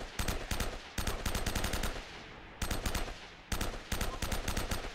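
Rapid bursts of automatic gunfire from the video game Uncharted: Drake's Fortune, several clipped volleys of machine-gun fire separated by short pauses, fairly quiet and with no talking.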